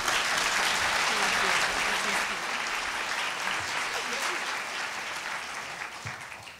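An auditorium audience applauds warmly for speaker Zahra Jamal, a dense, even clatter of clapping that holds steady and slowly fades toward the end.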